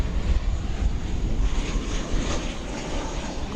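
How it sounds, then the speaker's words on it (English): A Qantas airliner moving at DFW Airport produces a loud, steady jet engine roar with some wind rumble and no voices. "Is that Qantas on the move there?"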